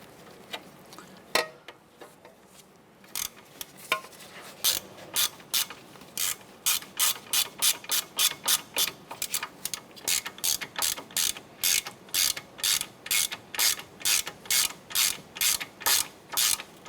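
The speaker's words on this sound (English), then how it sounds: "Let's go ahead and snug all three of these down now." A hand ratchet snugs down bolts on a 2008-2012 Honda Accord wheel bearing, giving a long run of close, crisp, evenly spaced clicks that speed into a steady rhythm after a few scattered taps.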